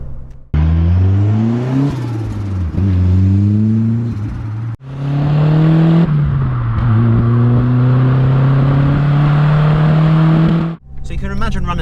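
A Ford Fiesta RS Turbo Mk3 engine revs up loudly through the gears, rising in pitch, dropping at each shift and climbing again, heard from inside the car with a brief pause between pulls.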